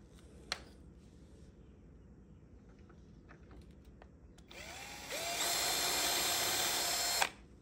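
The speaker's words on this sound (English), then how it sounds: "all you have to do is drill some pilot holes and screw them in" A cordless power drill boring pilot holes for drawer guides inside a laminate dresser: after a quiet stretch with faint handling knocks, the motor whirs up and holds a steady high whine for a couple of seconds, then stops.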